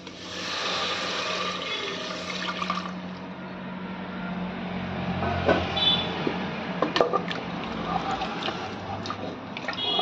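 Coconut milk poured into a pan of sautéed vegetables while making veg coconut rice, a steady soft liquid pour with faint splashing and clinks, fairly close and continuous.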